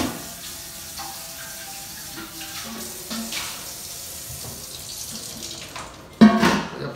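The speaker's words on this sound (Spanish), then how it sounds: "Dejen darle una enjuagadita a la olla." Water runs from a kitchen tap into a cooking pot as it is rinsed, a steady splashing rush with shifting clatter, swelling louder with a sharp burst near the end.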